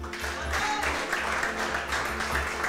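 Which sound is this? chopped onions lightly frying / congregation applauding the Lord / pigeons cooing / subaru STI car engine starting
congregation applauding the Lord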